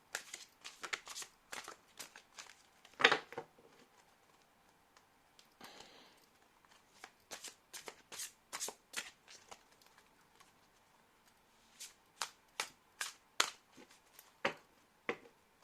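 Tarot cards being shuffled by hand: a run of sharp, crisp riffling snaps in bursts, near and fairly quiet, with short pauses between groups and no talking.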